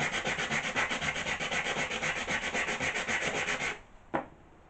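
Steady, rhythmic abrasive rubbing of a sanding pad on glass for Tiffany stained-glass work, back-and-forth strokes for several seconds, then it stops with one faint scrape.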